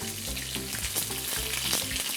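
Chicken pieces frying skin side down in a hot pan for a peanut butter sauce dish, giving a loud, steady sizzle with crackling spits throughout, heard close up with no voices.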